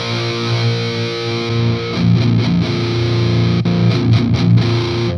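Heavily distorted metal guitar riffs through a Marshall JCM2000 TSL100 tube amplifier, played alone and loud with sustained chugging chords and short palm-muted breaks.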